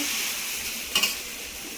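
Chowmein with egg and chicken fries in a pan with a soft, steady sizzle. A brief utensil clink or scrape sounds midway.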